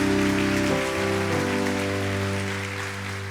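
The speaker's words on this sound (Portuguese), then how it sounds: "aplauda o nome do Senhor" A church congregation applauds during an evening worship service, a dense, steady wash of clapping with sustained organ or keyboard chords beneath it, fading slightly toward the end.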